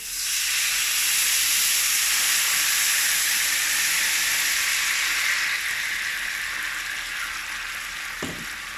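Poultry or vegetable broth hits a hot pan of browned endives and sets off a loud, hissing sizzle that slowly fades over several seconds, ending in a single soft knock.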